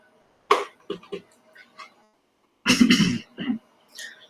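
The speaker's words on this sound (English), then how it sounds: "my throat starts acting up and I got a cough" A man at a microphone coughs a few times and then clears his throat hard, sharp, close bursts separated by short pauses in a quiet room.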